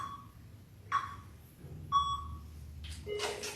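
A workout timer app beeps three times, evenly spaced and fairly faint, in a gym session, followed by a short rustle or clatter.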